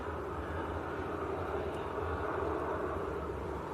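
An EasyJet airliner departs Manchester Airport, its engines a steady, broad roar at moderate distance, holding level and unbroken throughout with no voices over it.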